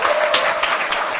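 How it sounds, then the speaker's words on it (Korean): Audience applause at a Seoul education superintendent candidates' debate as a candidate is sent off, a dense, steady clapping from a crowd filling the whole short moment. "박수로 조혜원 교수님 박수로 배웅하겠습니다."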